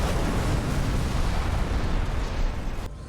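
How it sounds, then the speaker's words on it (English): A flashbang grenade goes off in a TV show scene, a loud, close, broadband roaring blast that fills the whole moment and cuts off abruptly at the end. "Flashbang."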